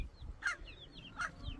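Broody hens giving two distinct, fairly close clucking calls about a second apart, with faint chirps in the background.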